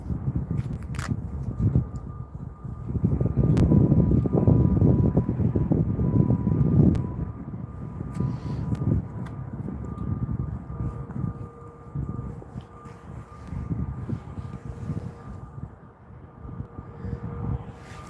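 An Airbus A320 airliner at Stockholm Arlanda Airport produces a broad, rumbling jet roar that swells early and then slowly fades, with wind buffeting the microphone and faint tonal engine whines lingering into the distance.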